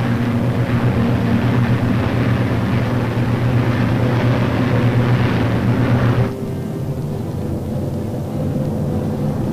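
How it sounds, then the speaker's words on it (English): WWII P-51 Mustang fighters and B-29 bombers flying in formation in 1945, a loud, dense rumbling roar of piston engines with a low droning hum that drops slightly in level partway through. "The Mustangs climb in formation to take positions above the boxes of B-29s."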